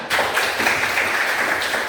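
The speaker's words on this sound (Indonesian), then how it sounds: "Tepuk tangan buat Esther" An audience in a teacher-training class claps for a participant named Esther, a short, steady burst of close applause that starts abruptly and continues evenly without voices.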